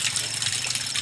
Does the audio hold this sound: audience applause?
no